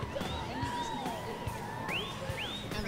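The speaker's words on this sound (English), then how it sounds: "And the crowd is loving it." Spectators at a reining horse show cheer and whoop, with several high shouts rising above a steady roar of crowd noise and a voice audible in the mix.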